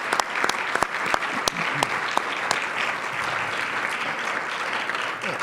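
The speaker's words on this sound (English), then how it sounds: "I'd just like to give a round of applause to our volunteers" Conference attendees give a sustained round of applause for the event's volunteers, with steady clapping throughout and several sharper, louder claps standing out near the front.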